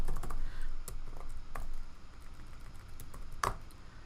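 Computer keyboard keys are pressed for a shortcut while working in software: a handful of sharp, close clicks and taps land irregularly over a low steady room hiss, with no speech.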